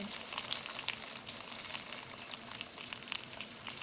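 Potatoes brown in a frying pan alongside lemon Greek chicken, giving a faint, steady sizzle with scattered small pops and crackles throughout.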